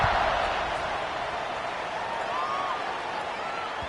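Stadium crowd at a KU college football game roaring steadily just before kickoff, a dense, sustained wash of cheering and distant voices filling the space, fairly loud and continuous with no single voice standing out.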